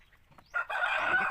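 A chicken, noted as still unable to walk after a week, gives a loud sustained crow or squawk close by, rising abruptly after a short quiet stretch of faint rustling.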